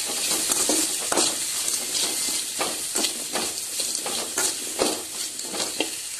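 Onions fry with cumin and pepper in a pan for a spicy fish curry, a continuous sizzle broken by frequent quick scraping stirs of a spoon against the metal, close and fairly loud.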